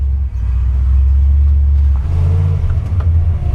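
A Ford Mustang fitted with new coilovers rumbles low and heavy as it pulls away, its engine droning steadily up close from inside the car.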